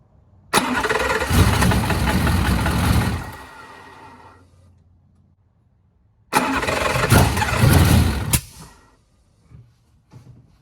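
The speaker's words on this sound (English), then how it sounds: "And I'll go start the car" A TVR Cerbera engine is cranked twice at close range during an alternator and wiring fault check; each attempt brings a loud, rough burst of mechanical noise lasting two to three seconds that then dies away into near silence.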